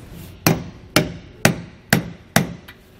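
A bolt for a Dexter heavy-duty tandem-axle trailer suspension kit is driven in with five evenly spaced, loud, ringing metallic hammer blows, each decaying quickly, close up with no talk.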